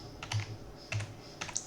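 Short bursts of typing on a computer keyboard, three quick clusters of close, crisp key clicks separated by brief pauses in a quiet room.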